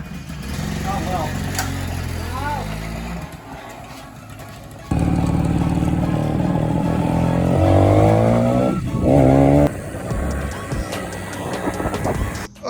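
Honda PA50II moped engine starting up and running roughly, a buzzing two-stroke note that surges and drops unevenly rather than idling smoothly, with voices talking over it.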